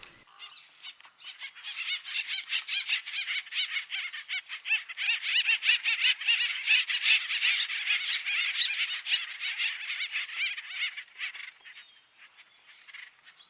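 Acorn woodpeckers calling together at a granary tree, a steady chorus of rapid, raucous repeated calls from several birds that swells and continues for many seconds before thinning out, with no talking.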